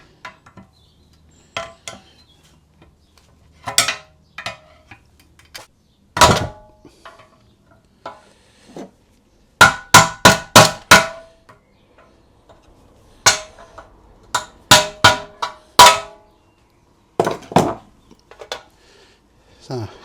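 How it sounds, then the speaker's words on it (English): A big screwdriver works a part loose, giving sharp metallic clanks and knocks in scattered bursts, including a quick run of five close taps, with quiet pauses between. "So we'll just get a big screwdriver on it."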